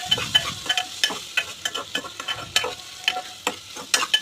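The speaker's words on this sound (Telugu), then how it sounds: "అల్లం వెల్లుల్లి పేస్ట్ మాత్రం చాలా బాగా ఫ్రై అవ్వాలి" Ginger garlic paste frying in a pan, close and steady, with repeated sharp scraping stir strokes over a constant sizzle and no voices.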